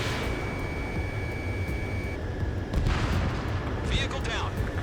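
Heavy explosions rumble through dense in-game combat noise as an anti-air radar vehicle is destroyed in Ace Combat 7, with a low booming blast building partway through and voices chattering over the din.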